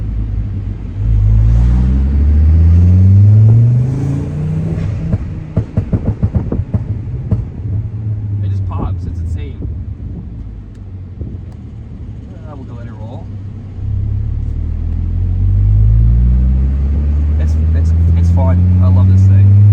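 A tuned Volvo C30 engine with a Hilton Stage 2+ tune roars and climbs in pitch as it accelerates hard from a rolling start, dips, then revs up again, loud and close, with brief crackles between.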